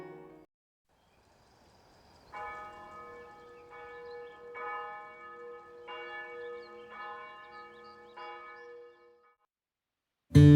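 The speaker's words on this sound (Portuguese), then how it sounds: "quem fica atento pode ouvir o sino" A church bell rings on a mountain bike route between Nauders and Merano, a few resonant strikes sounding clearly against quiet surroundings, then fading to silence.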